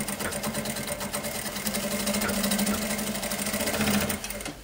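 A sewing machine runs continuously with a fast, steady whirring stitch while sewing fabric for a small car trash bag, close and alone.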